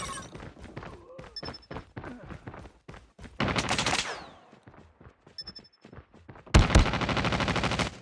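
Gunfire in the mobile shooter game Call of Duty Mobile: sharp automatic bursts and single shots crackle over bits of game voice chatter, with two dense, loud volleys of rapid fire.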